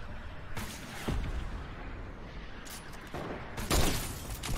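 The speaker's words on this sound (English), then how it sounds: "They're shooting at us? That's us shooting." Gunfire in Fortnite gameplay comes in several sharp, loud bursts, a rapid volley near the start and clustered shots toward the end, over a steady game-ambience bed.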